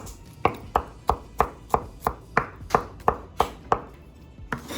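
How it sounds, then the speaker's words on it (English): A knife crushes and chops garlic on a cutting board while making Cambodian steamed noodles: about a dozen sharp, evenly spaced chops, close and crisp, with no talking. "she needs this garlic chopped up, so make sure you crush it with the flat end of your knife to peel the skin off"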